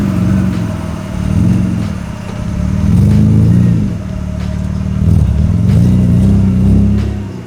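A high-mileage BMW E46 M3's S54 engine idles steadily with a low rumble, rising slightly in pitch and volume at times before settling again, heard close up.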